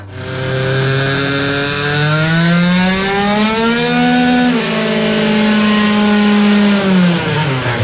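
A 70cc 2Fast scooter engine screams loudly on a dyno, its revs climbing steadily, dipping briefly near the middle, then rising again in a continuous high-pitched two-stroke wail with no talk.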